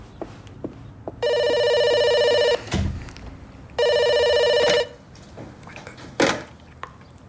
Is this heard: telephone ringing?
yes